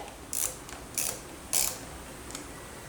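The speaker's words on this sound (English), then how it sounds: "taking a 10mm box wrench and loosen the nut off the bottom side" A 10mm box wrench loosens the nut on the lever of an FJR1300 motorcycle: three crisp metallic ratcheting clicks at close range, evenly spaced, then a fainter fourth, with no talking.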